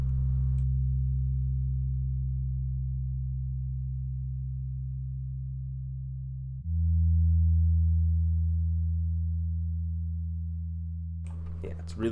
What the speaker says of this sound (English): So moving on to the bass,